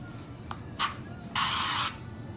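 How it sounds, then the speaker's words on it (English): Makeup setting spray misted onto a hand, a quick short puff followed by a longer steady hiss of about half a second, close and crisp, with a small click of the nozzle before. "Let's just spray it on my hand and see what's going on real quickly."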